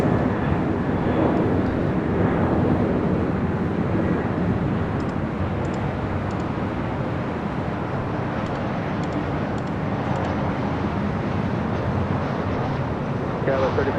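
A Southwest Airlines Boeing 737-700 arriving at LAX from San Jose makes a steady, broad jet roar that holds at an even level throughout, with wind noise on the microphone.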